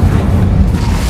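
The Incendio fire spell in Hogwarts Legacy is cast with a loud, low, rumbling fiery boom that holds steady for about a second.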